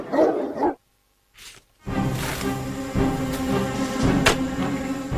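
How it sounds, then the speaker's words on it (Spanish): Ancient Roman war dogs bark in short bursts, set against a dense, loud backdrop of dramatic sound after a brief silent gap. "soltar a sus perros de la guerra."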